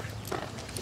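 Horse hooves clip-clop in a brief, soft series of steps, nearby but quiet.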